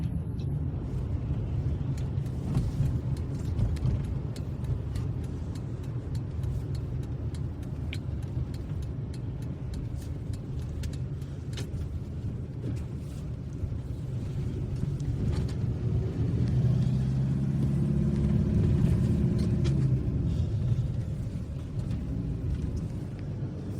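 A car drives along a road while turning left, its steady low engine and tyre rumble swelling slightly partway through and continuing without a break.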